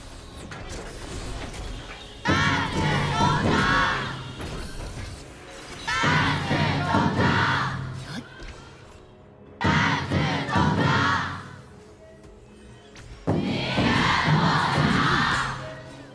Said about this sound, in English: let's hear the crowd as they cheer for the team.